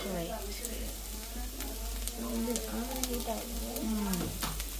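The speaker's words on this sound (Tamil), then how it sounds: "முட்டை உடைச்சி ஊற்றுவோம்" A cracked egg hits a hot pan and sizzles, a steady, close frying hiss with stirring scrapes and a person talking over it.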